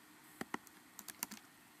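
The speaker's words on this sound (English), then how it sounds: "as soon as I start typing" Keys on a computer keyboard click in a quick, uneven run of about eight taps, faint and close, with no talk.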